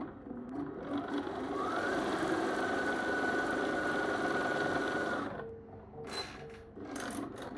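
A sewing machine stitching after its needle is rethreaded, a close, steady mechanical whir lasting about five seconds, stopping, then resuming in short quieter bursts.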